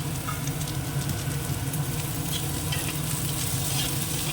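Chopped carrot sizzles in a pan of hot oil with fried onion and potatoes. A continuous, even crackle sounds up close with faint stirring, and no one speaks.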